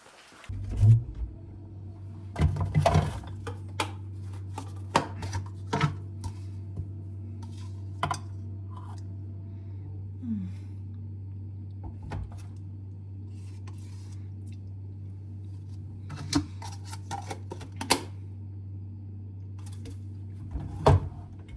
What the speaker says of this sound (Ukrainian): Нарізаю кубиками.